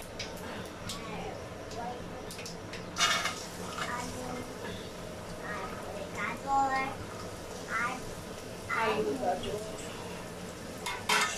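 Dried chilli, cumin, nigella and mustard seeds sizzle in hot oil as a low steady hiss, while people talk over it intermittently.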